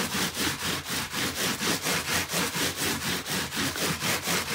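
A rubbing tool scrubbed back and forth over wet felting fibres in a steady, even rhythm of about four strokes per second, loud and close with no voices.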